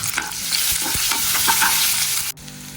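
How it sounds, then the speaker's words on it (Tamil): Fennel seeds and small shallots frying loudly in a pan of oil for prawn gravy, a dense steady sizzle with stirring scrapes that drops off sharply near the end, no talking. "சோம்பு போட்டு வச்சோடனே வெங்காயத்தை போட்டு வரணும் சின்ன வெங்காயம் போடணும்"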